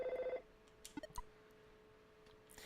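A telephone rings in the SNES game EarthBound: a quick run of bright, evenly spaced electronic ring pulses, followed by a few soft, scattered game blips and clicks. No one speaks.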